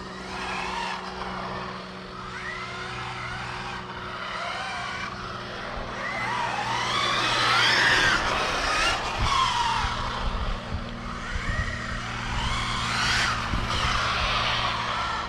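A Losi Super Baja Rey 2 RC car driving on a road, its high motor whine rising and falling as it passes, with tire squeal and a louder surge midway, no talk.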